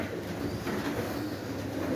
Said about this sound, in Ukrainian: Вон голуби дуже грязні.